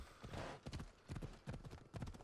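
A horse in the video game Assassin's Creed Odyssey trots with steady, close clip-clop hoofbeats, an irregular run of thuds heard alone at low level.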